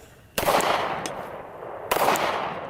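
Two sharp gunshots from a CZ P-07 pistol ring out about a second and a half apart, each a loud crack with a decaying echo and no talking.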